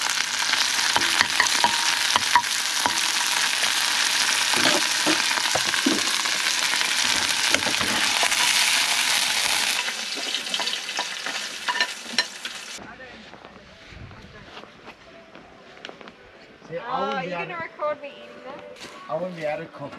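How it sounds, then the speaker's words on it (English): Butter sizzles loudly in a hot pan at a beach campsite, a dense steady frying hiss for about ten seconds before it cuts off, followed by quieter clatter and people talking nearby. "There we go, we got the sizzle, the desired sizzle effect."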